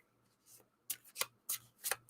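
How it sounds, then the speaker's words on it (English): A deck of tarot cards is shuffled by hand in several quick, close riffling bursts separated by short pauses, fairly quiet. "I don't even do this kind of shuffle very good. This, whatever you call it, the shuffly shuffle thing."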